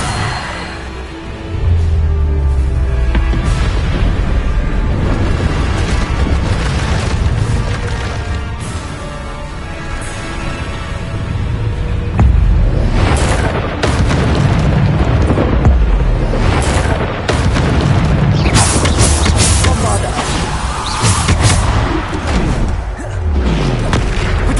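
Bombarda spell explosions in Hogwarts Legacy come as repeated booming, crackling blasts over continuous loud rumbling battle noise, with bursts clustering in the later part.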